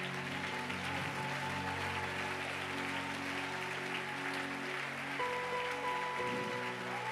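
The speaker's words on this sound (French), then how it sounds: "Quelqu'un acclame Jésus." Church congregation applauding and cheering continuously during a worship service, a dense wash of clapping with sustained music tones underneath and no clear speech.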